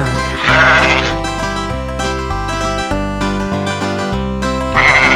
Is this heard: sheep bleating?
yes